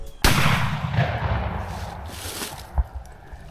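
A single loud shotgun blast from a muzzleloader on a turkey hunt cracks out near the start and rolls into a long, fading echo, with a smaller knock a few seconds later.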